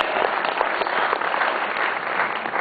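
Steady applause from an audience for a DJ, dense and continuous throughout at moderate level, with no voices standing out.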